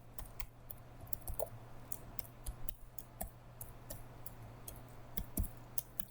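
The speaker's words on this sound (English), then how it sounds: "Type in the password here and then save it." Quiet, scattered clicks of keys tapped on a device while a Wi-Fi password is entered, irregular soft taps spread over several seconds.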